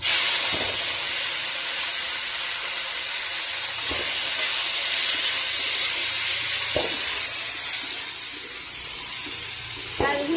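Bay leaf, onion and garlic frying in a pan for a Bengali chicken dish make a loud, constant hiss, broken by a few sharp taps or scrapes of a utensil spaced several seconds apart.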